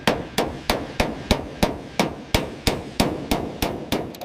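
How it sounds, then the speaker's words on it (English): A hammer strikes bare metal on a Chrysler car pulled from a forest during restoration, reshaping the body panels; about a dozen loud, sharp blows fall in a steady, even rhythm, each ringing briefly. "Listen to the rhythm of the hammer."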